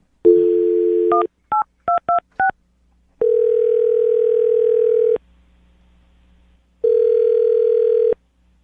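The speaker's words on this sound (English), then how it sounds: "I'm going to dial the phone number" A telephone dial tone sounds, then a quick series of DTMF keypad beeps dials a number, followed by two long ringback tones separated by silence, loud and clear.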